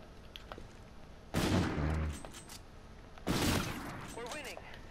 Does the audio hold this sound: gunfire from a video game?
yes